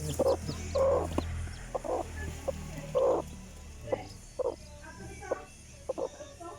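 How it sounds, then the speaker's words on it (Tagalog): A hen clucks softly beside her newly hatched chicks, short repeated clucks and faint peeps spaced irregularly, fairly close but quiet against a low background hum. "siya po ay may meron na siyang sisiw ayun itlog naging sisiw na"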